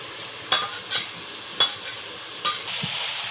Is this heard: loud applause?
no